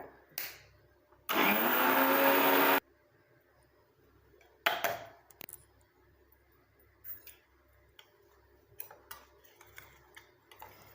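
A kitchen mixer grinds cumin, mustard seeds and curry leaves into powder in one loud, steady whir lasting about a second and a half, followed by scattered ticks and clatters as the jar is handled.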